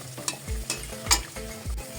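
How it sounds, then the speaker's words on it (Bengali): Large pitha deep-frying one at a time in oil in a kadai, with repeated scraping strokes and soft low thuds roughly every half second over a quiet bubbling sizzle. "পিঠাগুলো যেহেতু একটু বড় বড়, সেজন্য আমি একটা একটা করে ভাজবো"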